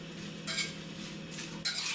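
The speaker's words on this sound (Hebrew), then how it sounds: "ואני מערבב קלות" Strawberries mixed with a spoonful of sugar are stirred gently in a bowl, giving two brief soft scraping swishes over a steady low background hum.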